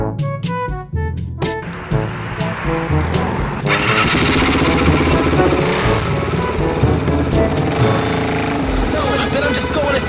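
A supermoto motorcycle engine sputters with a few false starts, then catches and settles into a loud, steady idle that keeps rumbling close by.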